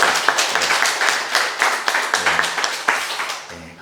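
A small church congregation applauding in thanks to God at the first service in a new sanctuary, steady rhythmic clapping from a modest crowd, fairly close, fading near the end.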